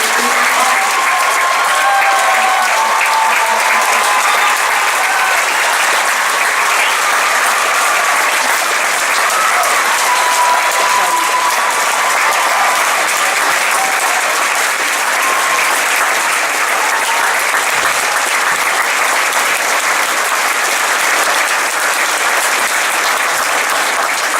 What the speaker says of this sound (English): Would you please give a round of applause to Mrs. Sandy Blickery?